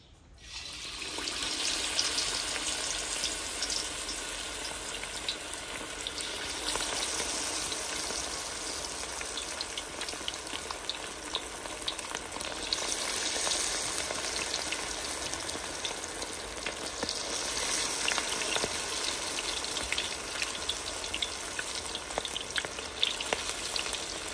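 Marinated, coated chicken leg pieces deep frying in hot oil, a loud, steady bubbling sizzle that carries on without pause for the whole stretch.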